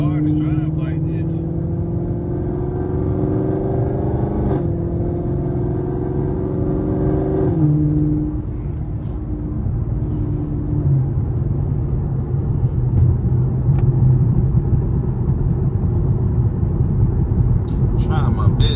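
A car's engine drones steadily while driving, with the pitch rising and falling as it shifts and accelerates, loud and close from inside the cabin; a person talks over it.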